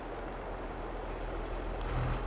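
A small tractor engine idles steadily in a farming video game, a continuous low rumble with no talk over it.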